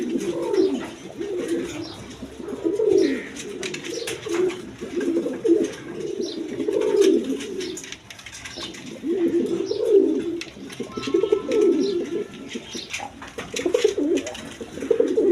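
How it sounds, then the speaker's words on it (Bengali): A pair of pigeons, a Bombay male and a Golla female, coo in repeated low, throaty phrases that come in steady waves, close by with no talk over them. "এখানে এক পেয়ার কবুতর আছে দেখছেন"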